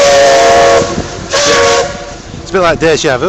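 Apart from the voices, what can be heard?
steam bus whistle in Whitby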